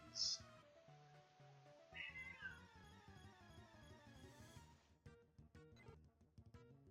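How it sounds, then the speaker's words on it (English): A cat meows a few times, high and drawn out, over steady background music from the game PokeMMO and a talking voice. "Cat's meowing at me currently."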